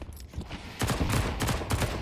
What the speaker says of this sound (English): So now it'll be their turn to go in with the pistols.